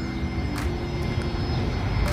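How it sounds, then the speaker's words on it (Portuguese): A Gulfstream G450 business jet takes off at Sorocaba airport, its engines giving a steady, loud, broad roar that holds throughout with no voices. "Mais uma decolagem aqui no aeroporto de Sorocaba."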